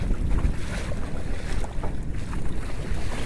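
Strong wind buffets the microphone aboard a Hobie Outback pedal kayak under sail in choppy water, a steady broadband roar with gusting surges and water sloshing against the hull throughout, no voices.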